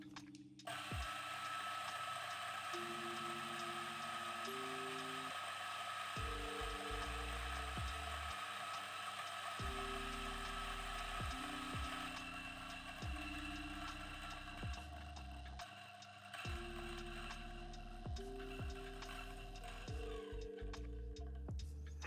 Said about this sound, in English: We're going to activate the grinder, and as it grinds through, towards the end, we're going to push through any remains through that bellows.